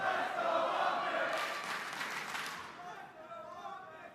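An esports crowd at a Call of Duty Major III elimination match, London Royal Ravens versus OpTic Texas, cheers and roars as a broad wash that swells and then fades, under a commentator's voice.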